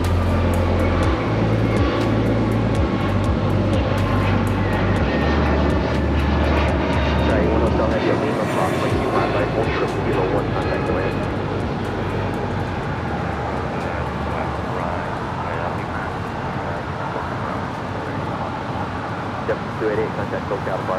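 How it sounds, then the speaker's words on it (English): JetBlue Airways Airbus A321neo jet airliner roaring at LAX, a loud sustained engine rumble that slowly fades and thins as it moves away, with a voice talking over it. "That was JetBlue Airways Flight 288 heading to Boston on the A321neo."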